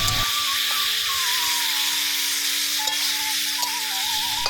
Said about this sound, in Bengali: কাঁঠালগুলো ভাজা হয়ে যাওয়ার ফাঁকে বিজুদা রসুনগুলো থেতো করে নিচ্ছে